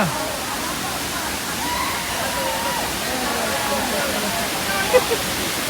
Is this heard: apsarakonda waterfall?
yes